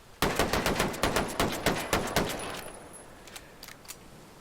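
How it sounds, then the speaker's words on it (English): An M1911 pistol fires in the video game Ghost Recon Breakpoint: a quick run of about a dozen sharp, loud, evenly spaced shots, each with a short ringing tail, ending in a fading echo. "we'll do a sighting round, and then we'll do 11 rounds as quickly as we can"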